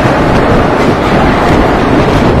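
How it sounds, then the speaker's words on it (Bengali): A Kolkata to Digha passenger train runs at speed, making a loud, steady broadband rumble with wind roar and no distinct clacks, heard from on board. "তো রাজগোদা থেকে কিন্তু আমাদের ট্রেন ছেড়ে দিয়েছে।"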